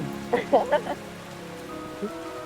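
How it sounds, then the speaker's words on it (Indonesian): Heavy rain falls steadily as a soft broadband wash, with a few brief bursts of laughter or voices rising over it near the start and another short sound later. "Kita ketawa di bawah derasnya hujan."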